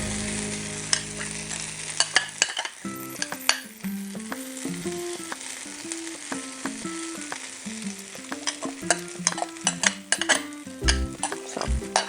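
Crispy mushroom sisig sizzles loudly on a hot plate with steady frying crackle, while a metal utensil clinks and scrapes in a rhythmic series of strikes against the plate.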